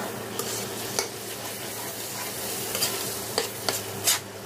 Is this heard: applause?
no